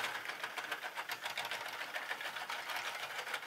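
A 3D printed pericyclic nutating gearbox runs with a steady, fast rattling whir, a busy mechanical clatter of meshing plastic gears heard alone at moderate volume.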